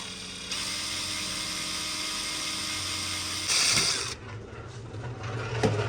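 A steady mechanical whir of a drill running continuously, opening a hole in a small metal part to 1/8 inch, with a brief louder grinding burst near the end as the bit works through metal.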